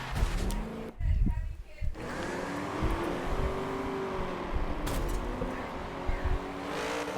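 Mazda MX5 race cars driving on the track at Indy, engines droning and revving continuously with a brief pass-by surge, while a voice talks over the racing.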